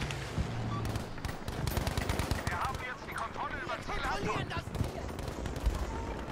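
Machine gun fire in Battlefield V: dense, rapid bursts of gunshots keep up throughout, loud and close, mixed with other battle noise and scattered shots, with voices talking over part of it.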